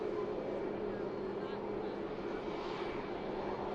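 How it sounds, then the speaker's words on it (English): A Pegasus airliner taxies out at Manchester Airport, heading back to Istanbul, its engines giving a steady, moderately loud whine and rumble that runs throughout, with a voice talking over it. "Just on the taxi there, see the Pegasus. Aircraft heading out on the return leg to Istanbul."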